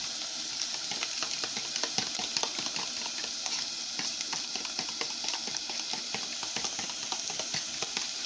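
Onion and garlic fry in a pan with a constant bright sizzle, broken by frequent small scraping and stirring ticks throughout, close and steady with no voices.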